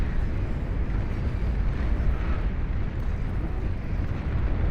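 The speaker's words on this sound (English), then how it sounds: "Juggernaut firing its beam of death" A Juggernaut unit in Beyond All Reason fires its beam weapon, giving a steady, roaring rumble that stays loud and unbroken for several seconds.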